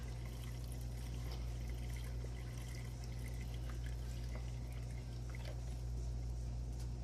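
Water pours steadily into an Aerogarden reservoir, a quiet, continuous splashing trickle with a low hum beneath it and no one speaking.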